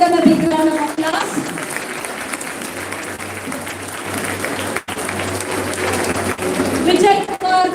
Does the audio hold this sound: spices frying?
no